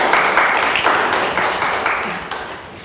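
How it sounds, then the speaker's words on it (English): A live audience claps steadily for a panelist, a youth affairs presidential advisor, on a podcast panel, the applause loud and continuous, gradually tapering at the end, with no voices over it. "Can we give her a round of applause, please?"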